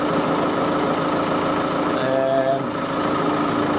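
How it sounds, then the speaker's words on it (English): Steady diesel drone of a Land Rover Series fitted with a 200TDI engine idling while warming up, constant and close, with a faint tonal whine appearing briefly midway. "Warming up. This has the 200 TDI engine fitted."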